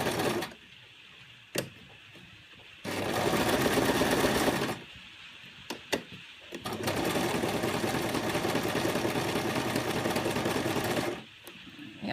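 A sewing machine fitted with a buttonholer stitches a buttonhole in fabric. It runs in two long, steady whirring bursts separated by quiet pauses, with a few brief clicks.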